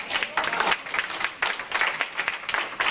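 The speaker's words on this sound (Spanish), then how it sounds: "Yo que usted le diera un aplauso al Señor" Worshippers in a Sunday church service applaud in uneven bursts, the clapping surging and dipping over a few seconds at fairly close range.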